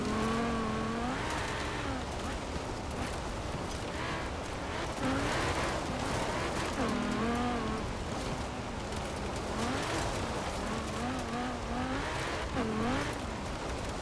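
Car driven off-road in Forza Horizon 4, an engine droning and rising and falling in pitch through gear changes, steady and loud throughout, with tire and surface noise underneath.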